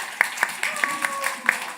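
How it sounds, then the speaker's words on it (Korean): A church congregation at a Sunday service claps in a short, loose burst, with separate hand claps spread unevenly over a low murmur of room noise. "박수 한번 쳐주세요."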